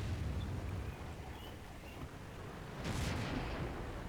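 M103 heavy tank cannon fire in a tank video game: a muffled booming blast amid rumbling engine noise, with a sharper report near the three-second mark.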